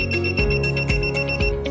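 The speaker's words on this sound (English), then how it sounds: "NCV induction, switch to the corresponding gear, and a beep will sound when the voltage is sensed" An ANENG 620C multimeter in NCV voltage-detection mode gives a shrill, rapidly repeating electronic beep, close and steady throughout, with regular pulses about every half second.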